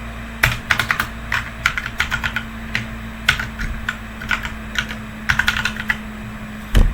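Code is typed on a computer keyboard, with bursts of quick, crisp key clicks in uneven clusters separated by short pauses, close and clear over a low steady hum.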